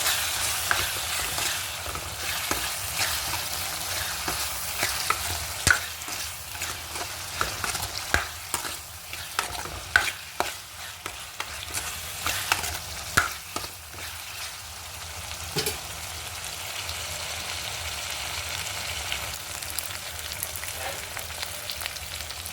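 Prawns and onions sizzle in a pan while ginger garlic paste is stirred through them, with a steady frying hiss broken by repeated scraping and clinking stirs close by.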